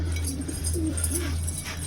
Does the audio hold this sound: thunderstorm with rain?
no